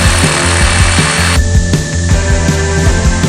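A power saw cuts small wooden pieces of bathroom trim during a school bus conversion build. It is loud and close, with a rapid buzzing rattle and a brief shift in tone partway through, and no voices.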